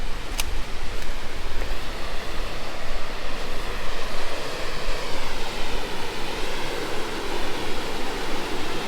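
Artist Falls, a waterfall along an Adirondack mountain trail, pours as a steady broadband roar that fills the whole stretch without pause, close and loud.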